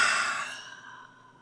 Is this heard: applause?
no